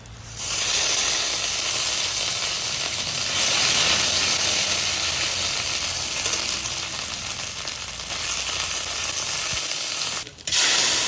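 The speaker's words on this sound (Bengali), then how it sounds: "ফোড়নটা একটু ভেজে নিলাম" Panch phoron tempering with whole dried red chillies and bay leaves frying in hot oil, giving a loud, continuous close sizzle and hiss that runs almost unbroken, with a brief dip near the end and no talking.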